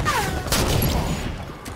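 Gunfire in Halo 5 multiplayer, a rapid volley of sharp shots blending into a dense burst of firing with a loud, continuous gameplay backdrop.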